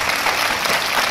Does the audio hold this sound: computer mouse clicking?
no